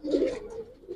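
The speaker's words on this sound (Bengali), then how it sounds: "অনেক চালু কবুতর এটা" A lively Giribaz pigeon on a pigeon farm gives one brief, close, throaty coo that swells and then fades.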